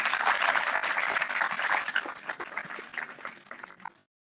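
Applause from an audience at a Friends of Figma design event in Paris, loud at first, then thinning into scattered claps before stopping abruptly.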